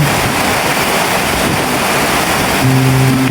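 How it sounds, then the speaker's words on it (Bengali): Steady drizzle falls in the hills of Dim Pahar, a dense, even hiss of rain that stays loud and close throughout with no voices. "যে বৃষ্টি দেখতে পাচ্ছেন"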